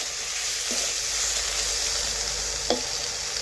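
Thin slices of bitter gourd sizzle steadily in a frying pan, a constant hiss of hot oil with a couple of faint stirring scrapes and no talk.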